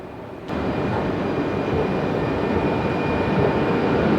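Steady low rumble and hiss inside a moving train carriage begins abruptly and continues evenly, with no talking.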